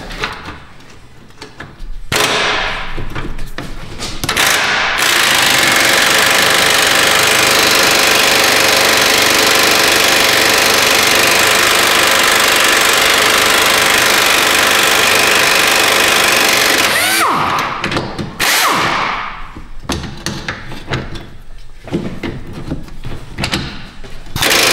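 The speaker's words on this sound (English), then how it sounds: "get the bolts out of it." Loud, continuous power-tool whine from roughly 5 to 17 seconds while working bolts free on a 2011 Honda Pilot front lower control arm, bracketed by shorter clanks and handling noise before and after.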